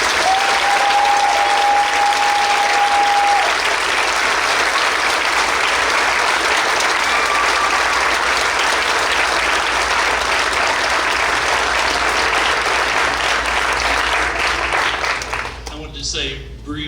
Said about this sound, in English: Please join me in a huge homecoming round of applause for Mr.